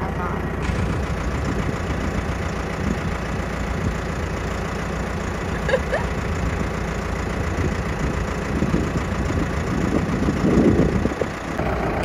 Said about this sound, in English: Sitting here, practicing driving the tractor.